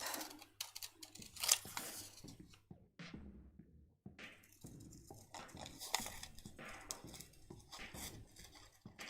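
Close, crisp snips and slicing strokes of scissors cutting paper, coming in short irregular bursts with brief pauses and a few soft handling rustles between.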